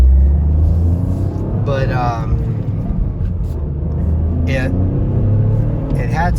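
A 2023 Toyota GR Corolla's turbo engine pulls under acceleration with a steady low rumble, heard from the cabin beneath someone talking throughout.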